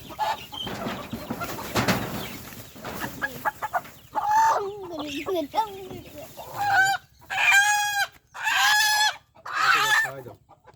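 Native country chickens cluck and squawk close by during vaccination. A few loud, drawn-out calls come in bursts after brief talk and handling noises at the start.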